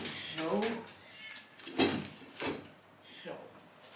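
A house cat gives a few short meows indoors as a cupboard is being emptied, with soft knocks and rustles of things being moved and a voice nearby.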